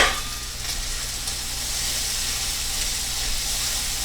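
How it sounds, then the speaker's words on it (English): Eggs sizzling and scrambling in a hot frying pan for a Denver scramble, a steady bright hiss and crackle that runs without a break, with no talk over it. "let's go ahead and give the eggs a chance to scramble"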